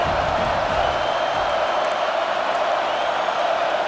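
Steady stadium crowd roar from a college football video game, a dense continuous wash of noise holding at even loudness throughout, with a faint low murmur underneath.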